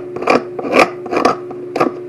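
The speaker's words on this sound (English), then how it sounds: "We're pretty sharp there, so we're going to just scrape some of that glue off." Repeated strokes of a sharp curved scraper lift old glue off a violin top, four rasping passes in a steady rhythm, close and fairly loud with no talking.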